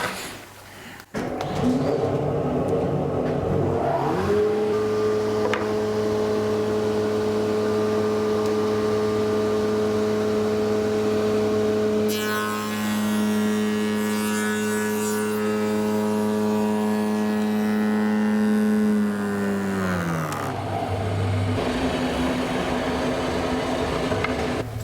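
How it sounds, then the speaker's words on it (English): Spindle moulder climb-cutting the edge of a wooden panel: the machine spins up to a steady high whine, cuts for several seconds with a rougher, brighter edge to the tone, then winds down, close and loud. "So we're going to be machining this edge along here"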